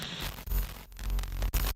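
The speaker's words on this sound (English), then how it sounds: "This page will give glitch sounds," Glitchy digital sound effects for a binary puzzle web page: a dense burst of static and crackling noise with abrupt dropouts and stutters, loud and continuous for under two seconds, with no voices.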